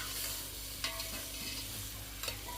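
Khichdi ingredients fry in a pot over a three-stone wood-fired chulha, a steady sizzle filling the background while a spoon stirs and scrapes now and then.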